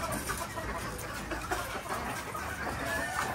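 Farm chickens make soft, scattered clucks at moderate distance amid a steady background hiss, with no clear voices.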